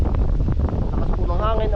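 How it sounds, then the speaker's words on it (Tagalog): Strong wind blows steadily across the microphone outdoors during a harvest day, a broad continuous rush with a person speaking over it. "Lakas po ng hangin na ba?"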